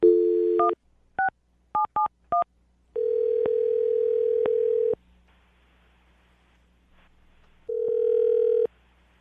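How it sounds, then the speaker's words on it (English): A telephone dial tone sounds, followed by a quick series of touch-tone beeps being keyed, then a steady tone returns briefly after a pause. "I'm going to dial the phone number right now"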